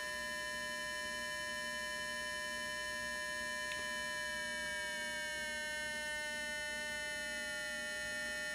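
Two buzzing square-wave tones from a pair of 555 timer circuits sharing one small speaker, steady and continuous, with one pitch sliding slightly partway through while the other holds, against a faint electrical hum.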